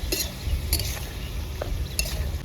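Onions are stirred and fried in a pot during outdoor riverside cooking, with a spoon clinking and scraping against the metal in a few quick strokes over a soft background sizzle.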